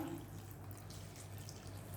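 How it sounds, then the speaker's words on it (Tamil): Steady, soft rush of water pouring continuously into a cooking pot on a stove while making sambar, close by, with no talking. "இது வேகிறதுக்கு தண்ணி ஊற்றுறேங்க"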